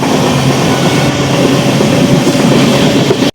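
An express train running from Chennai Central to Tirupati, heard from aboard as a loud, continuous rumble of wheels and carriages without speech, ending in a sudden cut.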